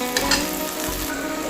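A spice mixture for a soybean curry simmers in a pan after water has been added, giving a close, continuous sizzle and bubble with no voices.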